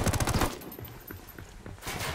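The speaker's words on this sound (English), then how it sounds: "Throwing a flashbang." A flashbang grenade goes off in Ghost Recon Wildlands, a burst of rapid loud cracks up front followed by a ringing, crackling tail and a second swell of noise near the end.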